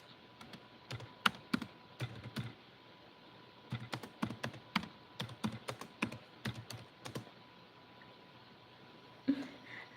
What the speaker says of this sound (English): I am typing and I'm still not typing letter Y.